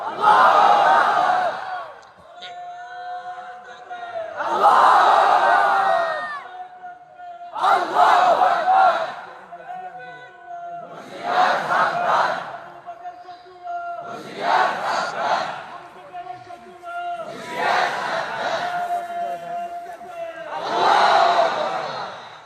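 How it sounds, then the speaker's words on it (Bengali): A crowd at an Islamic sermon gathering shouts the takbir "Allahu Akbar" in loud, massed bursts, about seven times in steady rhythm, with a single voice holding a tone briefly between them. "দেখি একটা তাকবীর দেন তো জোরে সোরে, আল্লাহু আকবার।"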